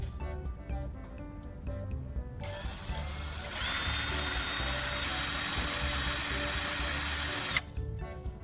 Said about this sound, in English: I turn on the drill and press the carbon core against the metal file